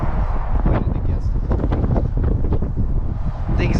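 Strong wind at an RC plane flying field buffets the microphone in a steady low roar that gusts throughout, with a few faint voices in the background.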